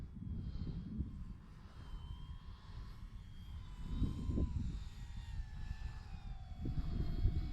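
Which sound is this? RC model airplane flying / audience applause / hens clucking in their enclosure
RC model airplane flying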